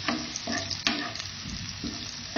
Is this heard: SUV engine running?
no